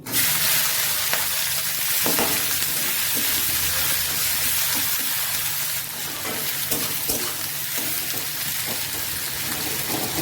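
Chopped onions and bay leaves hit hot oil with a loud burst, then keep up a dense, steady frying hiss that stays close and strong throughout. Occasional stirring scrapes sound beneath it, with no one speaking.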